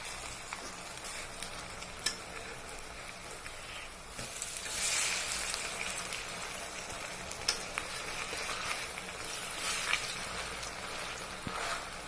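Lentil fritters crackle and sizzle steadily in hot oil, with occasional clinks and stirring sounds from a utensil; no voices.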